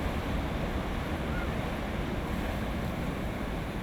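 Ocean surf on the beach at Melanesia, a steady, fairly soft wash of waves mixed with wind noise and no distinct breaks.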